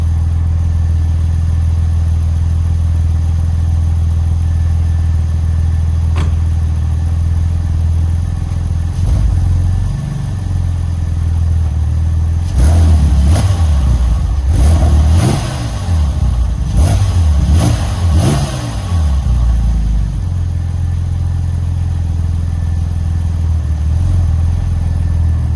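A Porsche 996 Turbo with a Fabspeed Gen 1 exhaust and 100-cell catalytic converters idles with a deep, steady rumble, then revs in several sharp bursts with crackling burbles before settling back to idle, close and loud.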